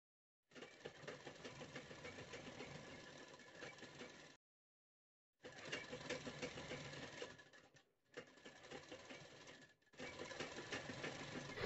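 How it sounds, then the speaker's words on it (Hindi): Sewing machine stitching the neckline of a designer blouse in three steady runs separated by short pauses, with a quiet, even mechanical whir and no talking. "तो देखिए, अच्छे से बनाते हुए गले पर सिलाई लगा देंगे।"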